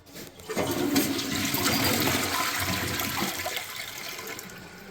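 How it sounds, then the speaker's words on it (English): A newly installed Niagara Stealth toilet flushes with a strong, close rush of water that holds steady for several seconds, then slowly eases into refilling, with no talking over it. "go ahead and flush it"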